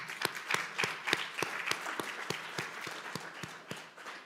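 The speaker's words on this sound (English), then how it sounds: "So Baltimore, state of Maryland, give yourselves a big round of applause" A crowd at an elementary and middle school ribbon cutting in Baltimore, Maryland applauds, a faint, distant wash of clapping with a few sharper claps standing out at a quick, uneven rhythm.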